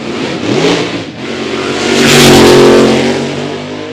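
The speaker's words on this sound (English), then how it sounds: "Chris Batty gathers it back up and gets on down the racetrack, salvaging a 565" A Funny Car drag racer runs down the track at Eddyville Raceway Park during a pro test session, its engine roaring loud and close, then swelling into a broad, intense rush as it passes.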